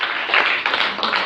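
Congregation clapping for Jesus at a church service, a short burst of dense, close hand claps with a few louder accents, brief and busy, over faint background murmur.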